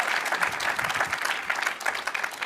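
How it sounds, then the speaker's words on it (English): An audience applauding at an online university quiz grand finale, dense steady clapping throughout, fairly close and unbroken, with no voices over it. "I could actually hear you applauding from back home"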